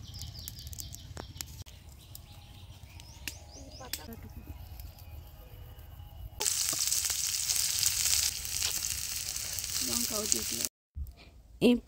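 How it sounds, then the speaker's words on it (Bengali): Chopped onion, garlic and green chilli fry in a pan outdoors in a home garden during a jungle picnic; a steady loud sizzle rises partway through, with faint birdsong and quiet background sounds before it. "এই পেঁয়াজ রসুনগুলো আর লঙ্কা কুচিকে একটু নাড়াচাড়া করে"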